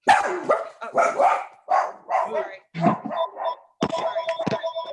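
Dachshunds bark in short, repeated bursts with brief yips, fairly close, during a virtual town commission meeting, with a voice briefly speaking among the barks.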